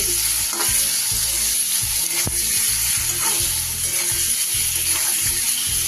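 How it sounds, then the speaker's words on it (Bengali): Paneer lightly frying in a pan, a loud, close, continuous sizzle broken by repeated soft scraping and stirring knocks at an uneven rhythm. "পনিরটা এইভাবে ভেজে নিলে একটু হালকা করে ভেজে নেব"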